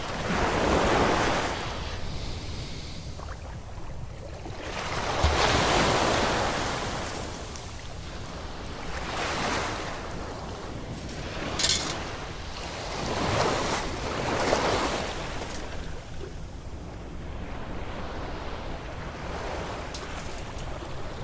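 Ocean waves roll in on a beach with the tide rising, a steady wash of surf swelling and receding in slow surges, with wind buffeting the microphone and no talking.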